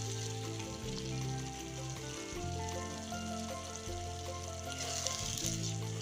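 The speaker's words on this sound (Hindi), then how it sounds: "अब इसमें दही और बेसन वाली ग्रेवी डाल देंगे।" A yogurt and gram flour gravy sizzles steadily in a pan over cooked tomatoes and onions for Amritsari paneer bhurji, a close, continuous frying hiss with no voices.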